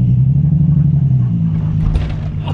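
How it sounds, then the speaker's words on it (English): A lowered car riding on hockey puck suspension rolls along the street, a heavy continuous low rumble with a brief rougher scrape of the underside against the road about two-thirds through. "It is currently scraping."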